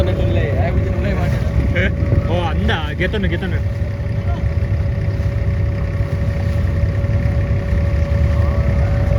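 A motorboat engine drones steadily and loudly throughout a ride on the water, with wind buffeting the microphone and a person exclaiming briefly over the engine noise.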